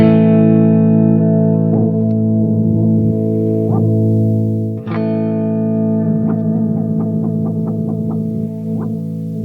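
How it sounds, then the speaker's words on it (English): Sustained guitar notes through an Electro-Harmonix delay pedal, echoing repeats whose pitch warbles and bends as a knob is turned, struck notes trailing into wobbling delayed copies, loud with no voices. "We can actually hear the pitch shifting as we mess with this knob."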